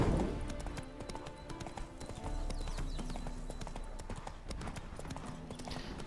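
Horse hooves clip-clop in The Witcher 3: Wild Hunt, a steady trotting rhythm of close, crisp hoofbeats over quiet background ambience.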